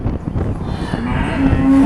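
A dairy cow that has recently calved lets out a loud, close, drawn-out moo lasting nearly two seconds, with no voices over it.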